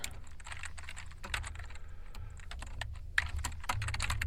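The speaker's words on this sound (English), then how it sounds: "His fingers glide over the keyboard like a surfboard in a storm." A computer keyboard is typed on steadily, with quick irregular clicks in bursts and brief pauses, near and clear, with no talking.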